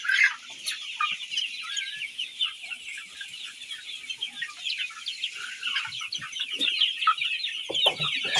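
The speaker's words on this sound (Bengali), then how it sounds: "মুরগি দেখেন সবাই ভালো আছে, মুরগি সব চারিদিকে সবাই আছে।" Sonali chickens on a poultry farm cluck continuously in a dense flock chorus, a steady layered clucking of many birds with no talk.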